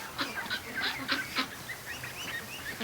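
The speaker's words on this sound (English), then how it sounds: "I looked out the window, and my yard is filling up with ducks." A flock of ducks gathered in a yard, a run of quacks and honks at moderate distance, clustered early then thinning into softer calls.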